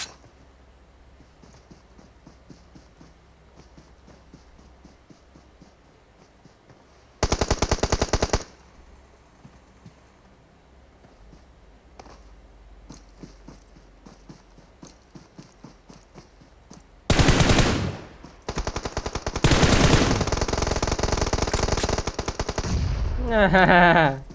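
PUBG Mobile gunfire: scattered distant shots and footsteps, then several loud bursts of rapid automatic fire up close, the longest near the end.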